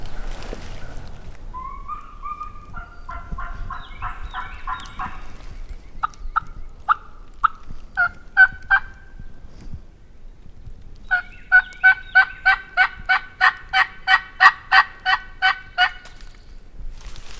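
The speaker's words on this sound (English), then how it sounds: "That hen's down there yelping." A wild turkey hen yelping down a ridge, bursts of rapid, evenly spaced yelps from a moderate distance, one short series, a few single notes, then a long loud run, with quiet outdoor background between.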